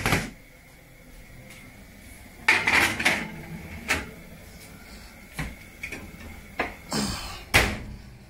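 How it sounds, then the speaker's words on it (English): A tray of turkey pieces goes into a home oven amid a run of metallic clatters, knocks and door or rack bangs, irregular and close, with no one talking. "Boom, we're gonna put them in the oven"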